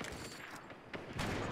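Gunfire rings out in a video game match: a short burst of sharp, loud shots crackles close by, followed by a brief pause and another shot near the end.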